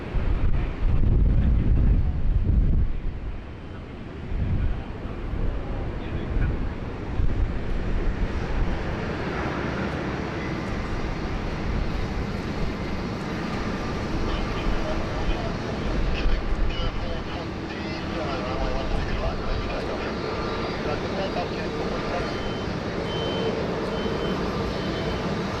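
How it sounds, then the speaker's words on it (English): A Qatar Airways Boeing 777-300ER taxis for departure at Sydney Airport, its jet engines a broad, steady roar that swells and settles, with wind buffeting the microphone and faint voices nearby. "And she's taxiing for departure now off runway 16 right."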